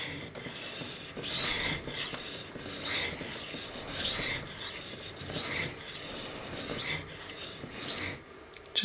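A Benchmade knife's M4 steel tanto edge, factory ground, is stroked across a 320 grit Kuromaku whetstone in a steady series of close, loud rasping passes, roughly a dozen sweeps with short gaps between them.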